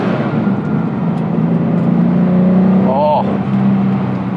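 The Paul Stephens Autoart Porsche 993R sports car's engine pulls hard under acceleration, a steady loud drone that rises in pitch, with a quick shift-like break near the end, heard from inside the car.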